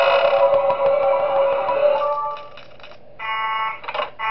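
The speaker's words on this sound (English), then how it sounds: "so I had to use the alarm to get rid of Wario" An electronic alarm tone in the video game Five Nights at Wario's blares, steady at first, then breaks into choppy pulsing bursts with short gaps, loud and synthetic-sounding.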